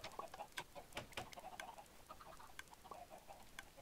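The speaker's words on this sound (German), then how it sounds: "warum haben wir hier Hühner, Kubi?" Chickens in the game Minecraft, with a small baby chicken among them, give soft clucks and brief chirps in a quick irregular patter, moderately close, with no talk over them.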